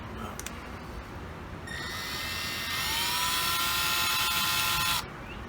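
Small electric screwdriver or drill whirring as screws are run in to cut threads on a Traxxas UDR RC truck, a close high-pitched whine that starts, climbs in pitch and stops after about three seconds.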